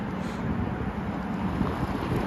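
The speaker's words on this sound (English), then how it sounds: "Tea, stay warm because it's windy and cold right now" Low, rumbling wind buffeting the microphone on a cold New York City street in Chelsea, a constant roar with gusty fluctuations and no voices.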